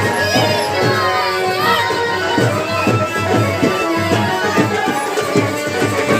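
Large crowd of devotees gathered in Bhariyar for the arrival of saint Shri Anand Das Ji Maharaj, a dense, loud murmur of many voices with shouts and a vehicle convoy nearby, continuous throughout.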